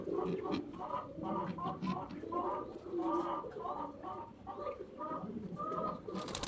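Red checker male Roman pigeon in a loft, giving repeated soft throaty coos in a steady rhythm, close by, with someone talking over the calls throughout.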